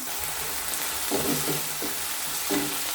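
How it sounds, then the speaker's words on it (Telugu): Ginger paste and vegetables frying in a pan, a steady close sizzle throughout with a few brief stirring scrapes, no voices. "బాగా ఫ్రై చేసుకుందాం"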